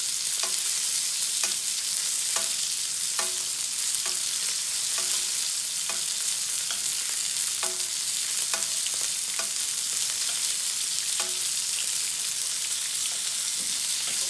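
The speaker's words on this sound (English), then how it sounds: "just keep on basting that butter right over your steak" Butter sizzles steadily in a hot pan as it is basted over a steak, with a dense continuous fry and regular soft scraping taps of the spoon throughout; no voices.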